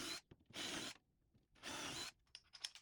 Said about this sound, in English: I am using the same 3/8 drill bit,